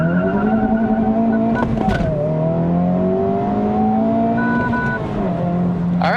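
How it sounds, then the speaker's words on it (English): A 2023 Honda Civic Type R launches hard from a standstill, its engine revving loudly as the front tires spin and squeal, then pulls through a quick upshift and keeps accelerating. "Now, you guys saw there's a good amount of wheel spin."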